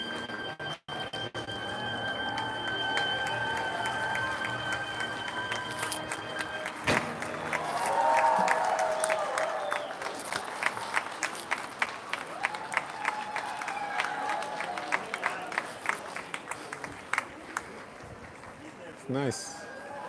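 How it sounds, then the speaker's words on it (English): Outdoor crowd in Piazza San Marco, Venice, on a Sunday night breaking into a burst of applause and cheering, with scattered clapping continuing amid general chatter and open-air bustle. "It's going to get a big cheer now."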